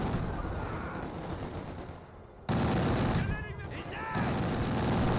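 Rapid machine gun bursts from a quad half-track in a World War II strategy game, crackling amid dense battle noise and engine rumble, with brief spoken voice fragments in between.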